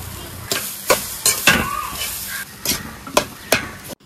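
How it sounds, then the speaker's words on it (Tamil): Coconut roasting in a pan in a country kitchen, with a spatula stirring in regular scraping strokes, about eight close, sharp scrapes over a low background sizzle. "தேங்காவை நல்லா வறுக்க போறோம்"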